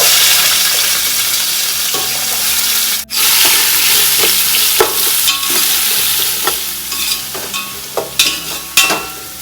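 Onions fry with garam masala in a pan for pulao, giving a loud, steady sizzle, with occasional stirring scrapes and clicks near the end.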